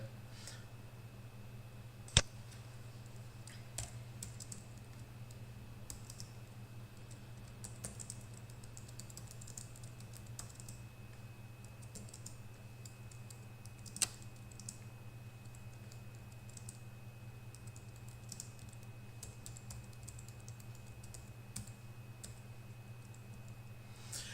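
Quiet, sparse keystrokes tap on a computer keyboard over a low steady hum, with a couple of sharper clicks standing out.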